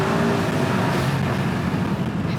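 A 900 PS Brabus GLS Maybach accelerating hard, its deep engine roar loud and steady throughout, heard from the cabin with no voices.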